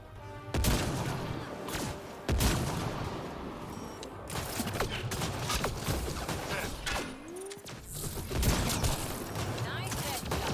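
Weapons fire in Mass Effect Andromeda, with sharp gunshot bursts and bangs over mechanical clanks and game effects, loud and close, while voices talk beneath the action.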